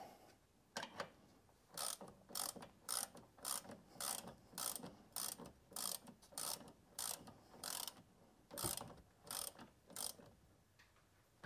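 A ratchet clicks in quick rhythmic bursts while brake caliper bolts on a Renault Scenic 3 are run down tight, about a dozen close, crisp strokes with short pauses, no speech.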